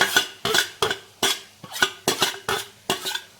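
A spoon stirs ground paste into beetroot in a pan for beetroot thoran, making about eight evenly spaced scraping strokes, each a crisp metallic scrape. The strokes are close and clear, with no voices.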